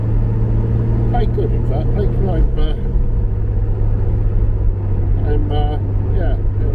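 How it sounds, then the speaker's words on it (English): A 1978 Reliant Scimitar GTE SE6A drives along with a steady, loud engine and road drone, while someone talks over it in spurts. "I remind you, it's a 1978 Reliant Scimitar GTE SE6A. Is driving quite nice"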